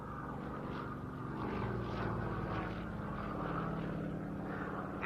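A Yak-52 two-seat aerobatic trainer flies at an evening air show at Duxford, its propeller engine a steady, moderately distant drone that swells slightly and holds throughout, with no voices.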